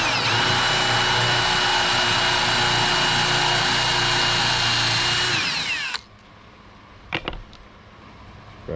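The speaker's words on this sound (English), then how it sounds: "drill this out" A power drill whines steadily and loudly while it bores a countersink hole in composite decking, then stops abruptly, leaving a quiet room broken by a couple of short clicks and knocks.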